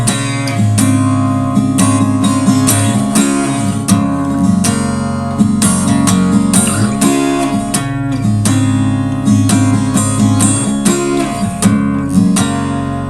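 Electric guitar plays the second chorus part of a worship song, a steady run of picked notes with ringing sustained harmonies, moderately loud and unaccompanied by speech for about thirteen seconds.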